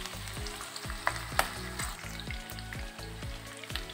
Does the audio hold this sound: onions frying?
yes